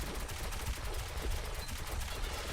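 Dense, continuous gunfire from the video game Metro 2033 Redux, loud rapid automatic bursts running throughout with no pauses and no talking.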